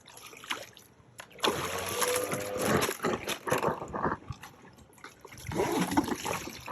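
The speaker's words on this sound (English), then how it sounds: "I'm going to unplug it, and what that'll do is that'll empty all the water out of the hose" Water gushing and splashing as it drains out of an unplugged swimming pool vacuum hose, a loud, sustained sloshing flow with some surging bursts, close by and without talk.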